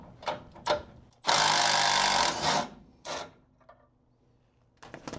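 A power tool zaps out an 18 mm bolt on a G-body front frame brace, with a loud sustained burst of about a second between short choppy bursts, then quiet before brief final bursts.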